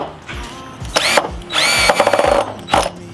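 A power drill whirs in short bursts, pausing between pulls of the trigger as it drives a screw, close and loud with repeated ramp-ups in pitch.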